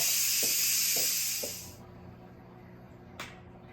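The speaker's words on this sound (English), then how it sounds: "it's time to manually release the pressure, carefully" Steam hissing loudly and steadily from an Instant Pot during a manual pressure release while cooking ribs, cutting off abruptly partway through and leaving quiet background with a few soft clicks.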